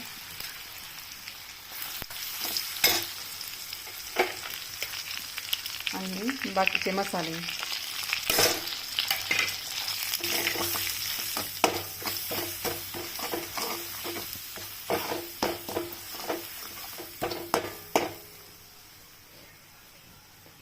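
Tomato, ginger-garlic paste and spices fry in hot oil with cumin and mustard seeds, a steady crackling sizzle broken by frequent scraping stirs and utensil knocks, with a voice speaking briefly.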